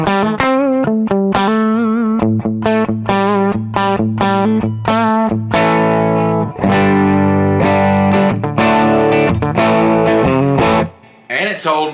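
A budget Les Paul copy electric guitar played on its middle pickup setting, with distorted, effected chords and riffs ringing out steadily and loudly, ending in a brief noisy burst.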